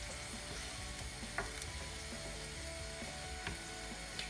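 Pasta soup with tomato being stirred in a pot, a steady sizzling bubble under faint scraping and clinking of the spoon, with a few sharper knocks against the pot, no talking.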